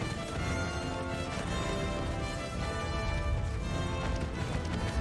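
Horses gallop in a Lord of the Rings video game, a dense rapid clip-clop of hooves under a loud, continuous bed of game music and action noise.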